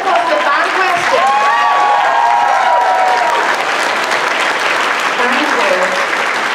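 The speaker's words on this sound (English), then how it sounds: "Can we have a round of applause for the fan question?" A panel audience at a Baldur's Gate 3 cast event breaks into a round of loud applause with some cheering, a voice speaking briefly over the steady clapping near the start.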